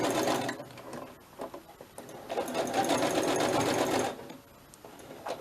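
A sewing machine stitches scrap fabric in rapid mechanical bursts: a short run, a pause, then a longer steady stretch before it stops, fairly close and loud.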